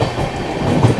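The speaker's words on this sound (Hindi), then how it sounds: "पनकी धाम स्किप करने जा रही है अपनी मगध एक्सप्रेस" The Magadh Express runs at speed, its carriage wheels beating a loud, close clickety-clack over a continuous rumble.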